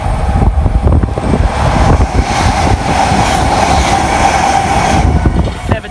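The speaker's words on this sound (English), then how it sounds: "Next on the faster Greater Anglia, I believe this is going to be 1K63 from London Liverpool Street through to Southend Victoria." A Greater Anglia train passes close on the Great Eastern Main Line, a loud continuous rumble with rhythmic clicking of wheels over rail joints, no voices.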